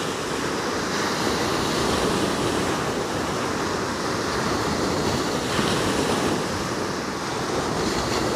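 Sea waves wash continuously onto the red sandstone shore at Maidencombe on the Devon coast, making a dense, even roar with some wind buffeting the microphone. There are no voices.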